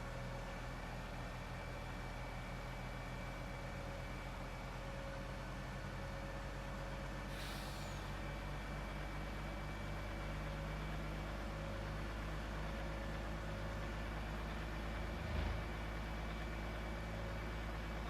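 A 600-horsepower Kenworth C500 mega truck engine in a video game, a constant low droning hum of the engine running steadily throughout with little change, moderately quiet.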